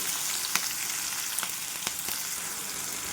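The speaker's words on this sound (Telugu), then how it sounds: "ఉల్లిపాయ ముక్కలు పచ్చిమిరపకాయ ముక్కలు ఇవన్నీ కూడా చక్కగా అటు ఇటు తిప్పుకుంటూ ఫ్రై చేసుకోవాలి" Onion and green chili pieces sizzle steadily in hot oil while being stirred, a continuous dense frying hiss broken by a few soft clicks of the spoon against the pan, close and moderately loud with no voices.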